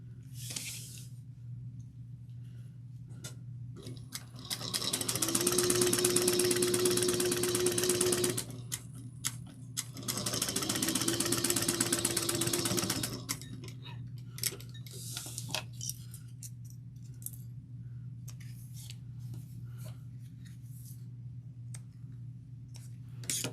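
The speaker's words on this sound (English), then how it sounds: "we're going to use a basting stitch" A sewing machine running a basting stitch while making a bag, two sustained whirring runs of several seconds each, close and steady, with quiet clicks and handling noises between them and no talk.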